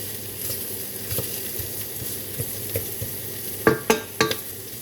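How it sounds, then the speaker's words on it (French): Onions softening in a hot pan for moules marinières, a steady close sizzle with soft stirring scrapes and a few sharper utensil knocks near the end. "on fait bien revenir les oignons"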